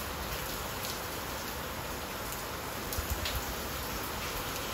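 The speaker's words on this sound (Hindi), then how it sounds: "इतना बारिश हो रहा है" Heavy rain pours steadily outdoors during monsoon weather, a dense continuous hiss of drops on surfaces with no break, close and fairly loud, with no voices over it.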